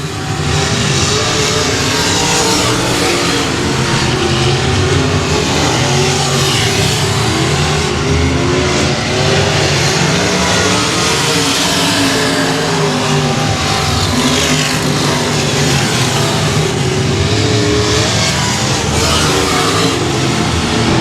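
Race cars roaring around the Ark-La-Tex Speedway oval during a heat race, a loud, continuous wash of engines revving and passing with no break.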